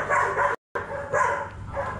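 A collie barks in quick, loud, close bursts, with a brief break of silence partway through, and no talking over it.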